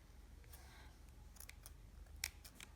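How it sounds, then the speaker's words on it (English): Scissors snip through crochet yarn, a few faint, quick metallic clicks close by against a quiet room. "make a slip stitch, chain 1, and then cut off the yarn."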